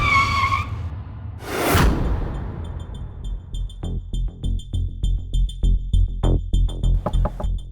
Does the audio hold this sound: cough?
no